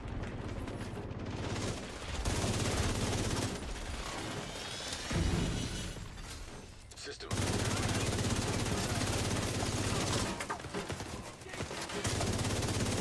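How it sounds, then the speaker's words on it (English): Sustained automatic gunfire in The Division 2 as a player shoots down a hallway, long loud bursts broken by short pauses and weapon mechanism clicks, with game sounds layered in. "Shooting into the hallway like it's heroic."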